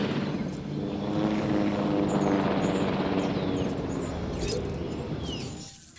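A helicopter in the video game Jurassic World Evolution gives off a steady, fairly loud rotor and engine drone that holds for several seconds and then fades at the end.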